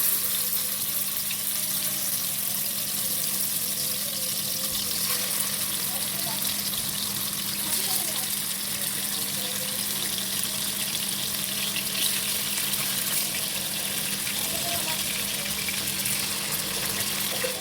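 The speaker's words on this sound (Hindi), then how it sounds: "अब हम इसको मीडियम आंच पे फ्राई करेंगे, क्योंकि इसमें दही लगी हुई है, दही अपना पानी छोड़ेगी।" Yogurt-coated chicken drumsticks, about six pieces, sizzling in a kadai over medium heat, a steady loud hiss and crackle throughout with a faint hum beneath.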